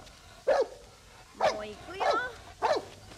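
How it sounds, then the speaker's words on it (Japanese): A dog barks in four short, sharp bursts spaced about a second apart, fairly close, while a person speaks over and between the barks. "もうお前何が吠えてんの。"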